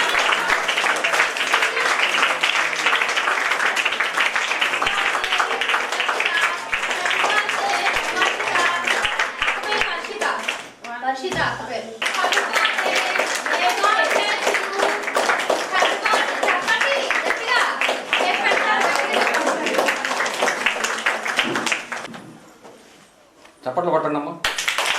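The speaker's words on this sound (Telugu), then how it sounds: "చప్పట్లు కొట్టండి అమ్మా." An audience claps in sustained, dense applause with voices mixed in. The clapping dips briefly partway through, then fades out near the end.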